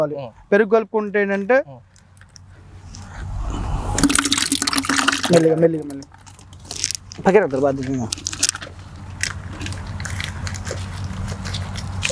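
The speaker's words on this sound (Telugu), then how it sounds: "దీంట్లో నీళ్ళు పోసేసుకోవటం" Water poured into a five-to-ten-litre plastic bucket while mixing a fruit fly bait, a steady splashing fill under a low hum, with someone speaking before and after the pour.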